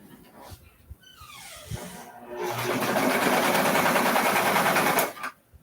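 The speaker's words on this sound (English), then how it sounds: "I'm stretching it just slightly as it sews just to help ease so I don't have to clip the back" A sewing machine runs steadily and close for about two and a half seconds as it stitches slightly stretched fabric. Quiet handling sounds come before the run, and it stops abruptly.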